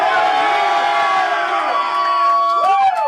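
A live rap battle crowd cheering and whooping loudly, a dense, continuous roar of many voices with sharp shouts rising near the end.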